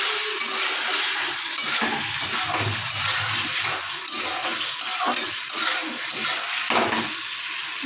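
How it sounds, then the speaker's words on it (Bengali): Chilli fish being stirred in tomato sauce in a pan, a steady scraping and sizzling texture with soft clattering bursts running throughout, close and fairly loud, with no talking. "এবার একটু নেড়ে একটু জল দেবো।"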